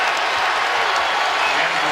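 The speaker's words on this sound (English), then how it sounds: "the crowd really feeling it now" A basketball crowd at a Kansas at West Virginia game cheers and applauds, a dense, steady roar of the arena throughout, with a commentator's voice partly over it.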